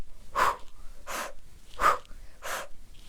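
Rapid, forceful breaths pushed out through an O-shaped mouth during a meditation, four strong rhythmic puffs at even intervals, close and breathy with no talking.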